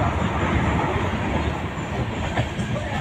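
A passenger train runs along the rails, heard from inside as a continuous low rumble with rhythmic wheel clatter and faint squeals.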